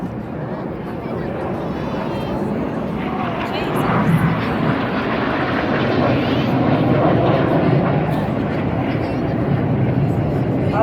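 Red Arrows jets at a seaside airshow in Blackpool, a Synchro pass with Red 9 crossing at over 450 mph, make a loud, continuous broadband roar that swells toward the middle and stays strong throughout, with a commentator talking over it.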